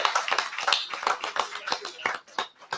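Applause at a public workshop honoring a police lieutenant: a short burst of many hands clapping, fairly close, with a few voices mixed in.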